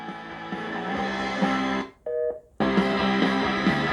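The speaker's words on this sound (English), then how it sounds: "Not sure why it gives you that busy signal." A waterproof floating Bluetooth speaker at maximum volume plays loud music, then sounds a short tonal busy-signal beep during a brief gap before the music resumes.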